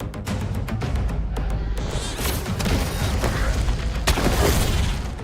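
Turrets firing in the video game Heroes of Science & Fiction, a rapid series of sharp reports and heavier booms over a rumbling low background, dense and loud throughout.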